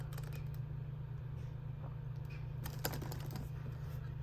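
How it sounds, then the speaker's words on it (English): Random characters are typed on a computer keyboard as soft, irregular keystrokes that tap faintly over a steady low electrical hum. No one speaks. "So I'm gonna type in random characters for now."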